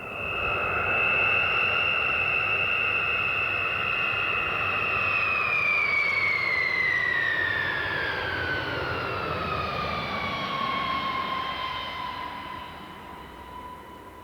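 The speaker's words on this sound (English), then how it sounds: "let you hear the sound of this massive plane" A massive military plane passes overhead during the 1999 NATO air campaign over Kosovo and Serbia, a loud sustained jet-engine roar whose whining tone slides downward as it moves away.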